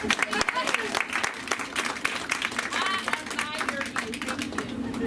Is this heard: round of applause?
yes